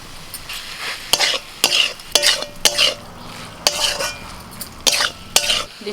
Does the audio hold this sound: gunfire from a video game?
no